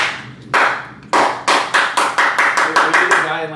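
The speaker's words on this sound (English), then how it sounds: "I just have like a really profound, like loud clap" One person claps loudly and sharply by hand, about a dozen crisp claps. They start widely spaced and quicken into a steady rhythm, close and dry like the start of a slow clap.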